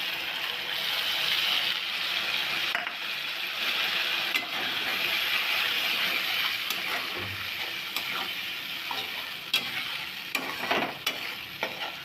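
Onion and green chili paste frying in a pan, a steady broadband sizzle with occasional stirring scrapes and clicks, loud and continuous with no talk.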